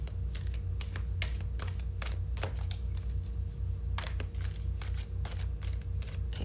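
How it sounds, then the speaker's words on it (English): A tarot card deck is shuffled by hand in a quiet room, a steady run of crisp riffling and flicking card slaps repeating close to the microphone, with a low hum underneath and no talking. "So let me just shuffle the deck here a little bit longer."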